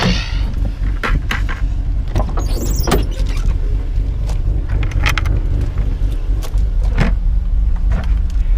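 A BMW E36 M3 lightweight track build with sticky tyres and a loose diffuser drives off, its engine a loud continuous close drone with a few sharp clunks and knocks over it.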